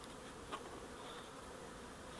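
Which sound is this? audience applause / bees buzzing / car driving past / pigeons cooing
bees buzzing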